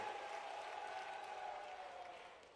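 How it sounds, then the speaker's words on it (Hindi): Crowd applause at a political rally in Maheshwar, Madhya Pradesh, a steady wash of clapping from a large gathering, fairly distant and even throughout, faint but continuous. "जोरदार ताली बजाओ राजकुमार जी मेव के लिए"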